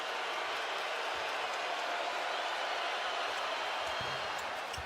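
A basketball arena crowd reacts to a missed free throw with a broad, sustained roar and jeers that hold steady throughout, heard from a distance with faint thuds underneath.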